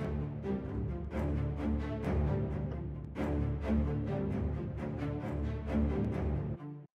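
Layered ostinato string patterns in several registers interlock in a steady, slightly syncopated loop, full and sustained, ending abruptly near the close.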